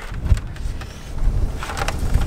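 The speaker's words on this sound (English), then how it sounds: "Pretty windy today." Gusty outdoor wind buffeting a microphone fitted with a wind sock near a parked Abarth 500, a continuous low rumble rising and falling in strength throughout.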